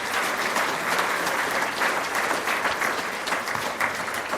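Audience at a scholarship luncheon gives steady, full applause for students, a dense even wash of clapping from a large room with no talk over it.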